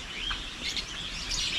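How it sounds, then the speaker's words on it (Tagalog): Bird calls and chirps from a flock of pigeons flying overhead outdoors, faint and continuous over about two seconds with no talk. "At masaya yung mga kalapati natin basta makalabas sila."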